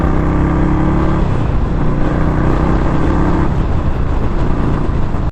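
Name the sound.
Indian Scout Bobber motorcycle engine revving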